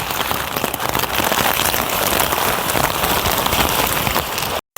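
Heavy rain pours down on a village street in Banaskantha, Gujarat, a dense, steady roar of drops hitting the ground close by that holds without a break, alone with no voices, until a brief dropout at the very end.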